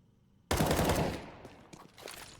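A rifle burst goes off in Counter-Strike 2, a sudden loud crack followed by a short rattle of rapid shots that decays, then fainter scattered shots in the distance.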